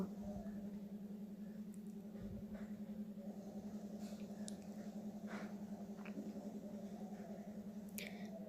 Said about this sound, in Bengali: তারপর সমস্তটা ভালো করে নেড়ে চেড়ে নেব।